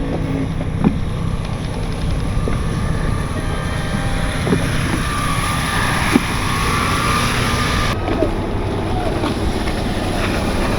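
A boat motors steadily across a bay, its engine a constant drone beneath heavy wind buffeting the microphone, with a few small knocks and splashes along the way.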